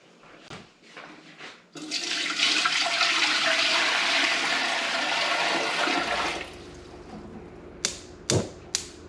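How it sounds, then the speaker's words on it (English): Hot tap water gushes into a water bath canner pot fitted with a rack, a strong rushing pour for about five seconds after a few handling clunks, then stopping, followed by several sharp metallic clinks. "Put the rack in here, and I'm going to add some water."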